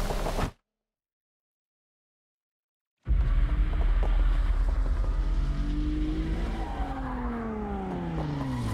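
A Nissan Fairlady Z in Need for Speed Unbound roars loudly after a brief dead silence, its engine droning close while tires squeal and skid under hard braking, rising and sliding tones over steady engine noise.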